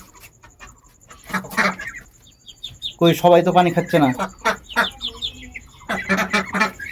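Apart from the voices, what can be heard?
ducks in a pen, unwell, being given medicine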